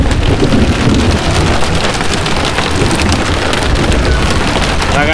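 Heavy rain pours down in a dense, continuous hiss during a pre-front thunderstorm outdoors by the water while fishing, loud and close with no voices.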